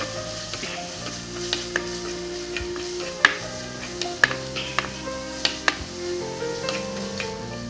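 Turmeric powder being stirred into hot, sizzling ground curry paste for Kerala pulissery, a continuous close fry with repeated spoon scrapes and a few sharp metallic clinks against the pan, no talk.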